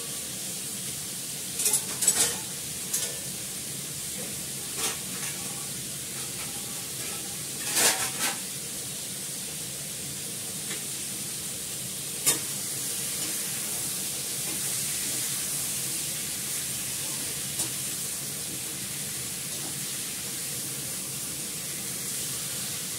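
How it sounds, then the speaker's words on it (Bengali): Pointed gourd (potol) fries in a pan with a steady, even sizzle. A few sharper scrapes and clinks from stirring break through near the start and around the middle. "ভালো করে ভাজা হোক।"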